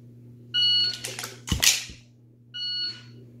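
A shot timer during dry fire practice gives two short electronic beeps, one near the start and one near the end, with a sharp click or clatter between them over a steady low hum.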